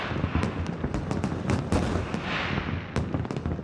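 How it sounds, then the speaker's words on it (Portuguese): New Year's fireworks over Funchal bay, Madeira, boom and crackle without pause in a loud, dense barrage, with sharp bursts popping over the rolling rumble; no voices are heard. "20 toneladas de fogo de artifício a pintar o céu"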